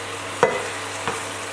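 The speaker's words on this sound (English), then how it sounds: "Now I'm going to add some brown sugar and fry for a bit longer" Beef and brown sugar fry in a pan, a steady soft sizzle broken by two brief scraping stirs, close up and with no talking.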